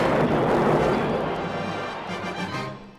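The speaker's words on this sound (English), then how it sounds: "Explosions ripped through the base, leaving it in flames." A loud explosion sound effect from a read-along record bursts at once as blasts rip through a base, rolling into a long crackling, rumbling decay that fades toward the end.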